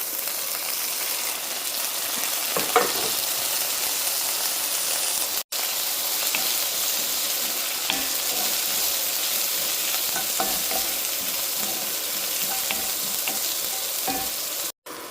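Sliced onion and coconut pieces fry in hot oil in a pan, a loud, continuous crackling sizzle like steady rain, broken by faint stirring scrapes and two brief cuts to silence.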